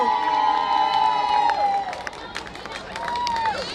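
A crowd at a Mother's Day celebration claps and cheers after a singing performance, steady applause mixed with shouts and children's voices, with a sustained tone over it at first.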